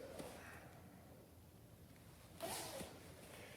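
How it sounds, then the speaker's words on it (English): A single quick zip on a beekeeping suit runs near the microphone, a short bright rasp over quiet background. "zip it up."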